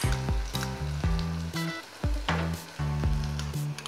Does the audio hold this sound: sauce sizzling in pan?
yes